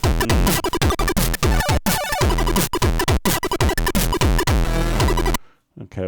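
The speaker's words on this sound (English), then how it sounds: "That sound is a combination of square and buzzer" A chiptune bass made from a square wave layered with a buzzer pulses loudly in choppy, rhythmic bursts with harsh gritty tone, running continuously for about five seconds before stopping.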